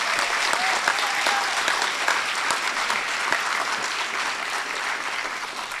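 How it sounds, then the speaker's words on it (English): A steady wash of dense audience applause follows a Bharatanatyam arangetram dance performance, sustained at even loudness with a brief voice heard faintly early on. "Please give it a round of applause."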